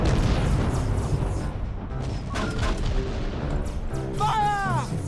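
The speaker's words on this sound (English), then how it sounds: "Torpedoes away!" Torpedoes firing in the Treasure Planet: Battle at Procyon video game, a loud booming launch blast followed by rumbling roar and whooshing, ending in a rising whine.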